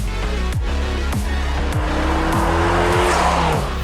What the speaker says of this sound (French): Je vais appuyer fort sur l'accélérateur.